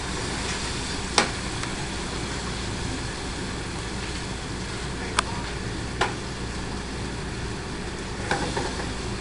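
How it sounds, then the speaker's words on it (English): Food sizzles steadily in a skillet on a stove after a flambé, with a few sharp metallic clanks as the pan is shaken. "Shake the skillet."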